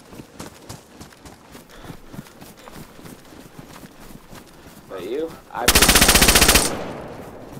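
AK rifle fire in the video game DayZ, with footsteps and movement before a loud sustained burst of rapid automatic shots close by, followed by a fading echo, with a voice talking over the scene.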